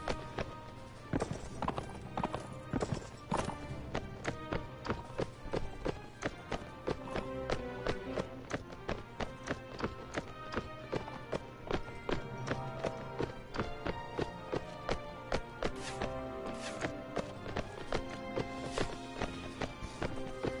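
Horse hooves gallop steadily in the Mount & Blade video game, a continuous rhythmic clip-clop running through dense game sound and music, loud and constant throughout with no talking.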